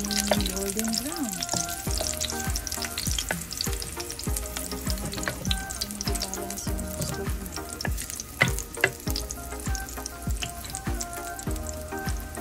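Vegetables for palabok noodles frying toward golden brown, giving a continuous bubbling sizzle with scattered pops and occasional utensil knocks against the pan, close and moderately loud, with no speech.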